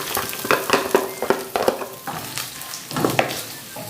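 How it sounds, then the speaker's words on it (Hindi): Chopped onion sizzles in a pan while being stirred, the soft frying hiss punctuated by uneven bursts of scraping and clattering from the spoon, close and moderately loud with no speech. "अब इस प्याज को हम थोड़ा फ्राई करेंगे"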